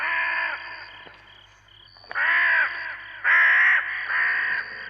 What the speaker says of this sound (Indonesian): Suara burung apa itu?